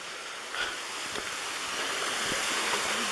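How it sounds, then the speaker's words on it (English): Deep Creek waterfall pours down after a steep climb, a steady hissing rush that fills the whole moment with a few faint knocks on top. "I made it to the waterfall here."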